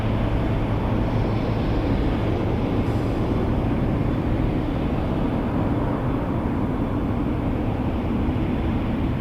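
An airliner landing at Toronto Pearson airport gives a continuous, heavy low roar that holds steady and loud throughout, with no voices.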